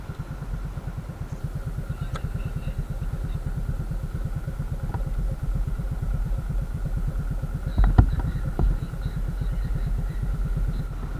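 A Yamaha Nuvo MX scooter carrying a passenger rides slowly through city traffic, its small engine putting out a steady, rapid low putter throughout, with a brief louder clatter near the end and no talk.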